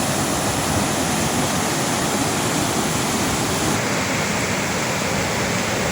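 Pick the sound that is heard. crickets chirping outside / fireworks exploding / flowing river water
flowing river water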